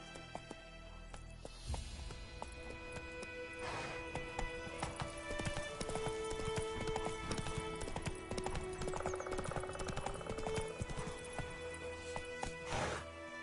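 A horse gallops in The Witcher III: Wild Hunt, its rapid, steady hoofbeats thudding close alongside a whinny, with game music and ambience layered underneath.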